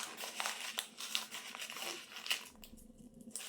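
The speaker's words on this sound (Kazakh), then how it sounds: "Қағазымызды стаканға салдық." Sheet of paper crumpled by hand and pushed into a drinking glass for an air-pressure experiment, giving close, crackly crinkling bursts that come and go over a few seconds.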